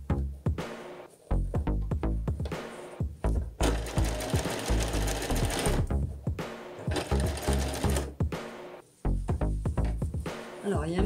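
A sewing machine stitches a seam on a costume, running in bursts of rapid mechanical whirring punctuated by short stops and restarts, loud and close with no talking.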